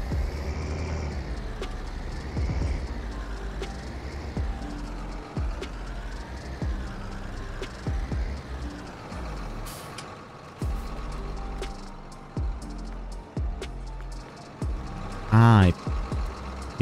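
Vehicle in the video game Farming Simulator 19 driving to the dealer with fertilizer: a steady engine drone with repeated thumps and clanks, air brake hiss and a short beep near the end.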